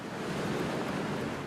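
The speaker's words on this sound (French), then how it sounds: "Aujourd'hui, les vagues sont pas très sympas." Ocean surf rolls onto a beach on a coastline, a continuous broad wash of breaking waves mixed with wind noise, steady and fairly close, with no voices.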